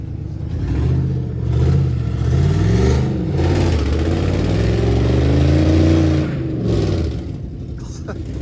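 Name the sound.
Lincoln Navigator engine revving rocking truck out of hole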